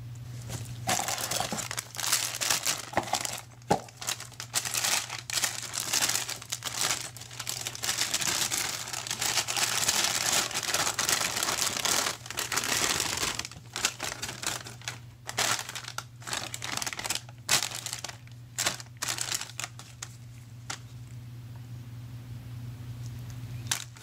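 Unpacking a replacement GE stackable washer speed sensor from its box: continuous crinkling and crumpling of plastic and paper packaging, close and busy, with occasional sharper rustles and tearing sounds.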